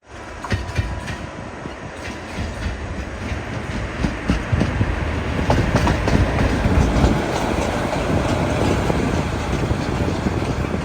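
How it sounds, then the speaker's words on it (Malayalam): A Malabar Express train rolls into platform number 1 at a station, its wheels clicking and clattering steadily as the rumble builds and holds, loud and close, with no voices. "മലബാർ എക്സ്പ്രസ് ഇതാ പ്ലാറ്റ്ഫോം നമ്പർ 1 കടന്നു വരികയാണ്"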